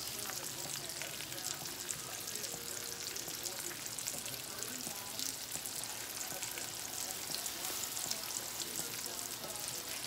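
Pumpkin cheesecake pancakes sizzling in a pan on a home stove: a steady, even crackle of frying batter, moderately loud and continuous, with faint talk now and then.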